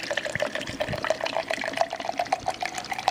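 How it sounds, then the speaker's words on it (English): Water runs into a protein shaker bottle in a steady, splashing trickle with small gurgling pulses, close and fairly loud, with no one talking. "To add some water."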